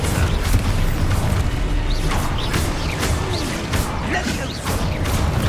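Spell explosions in a wizard-themed action game, repeated booming blasts and crashing impacts, with several strong bursts in a loud, continuous battle din.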